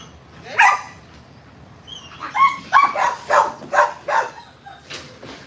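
Working protection dog in bite training barking in a quick run of about six loud, close barks after an earlier single bark, with whimpering yips between, no talk.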